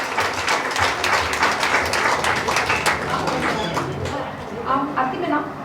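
An audience at a devotional katha gathering in Coventry claps in a dense, lively burst of applause that continues throughout, with voices mixed in.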